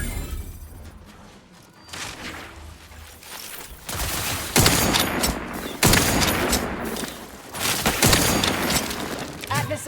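Sustained gunfire from The Outer Worlds 2 video game comes in loud bursts, growing heavier and denser after a quieter opening, with repeated volleys and booms over a busy combat backdrop and brief talk mixed in.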